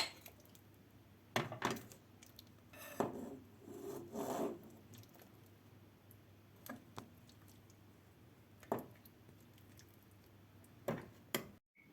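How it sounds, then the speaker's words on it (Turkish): A spoon scrapes and taps while pea stew with meat is served onto a serving plate, a few scattered rasping scoops and clinks spaced apart in a quiet room, no talk. "Şimdi alalım bunu servis tabağımıza."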